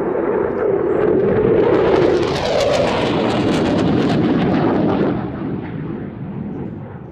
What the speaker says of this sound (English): Flown by Flight Lieutenant Matthew Brighty today from 29 Squadron, this specially marked Typhoon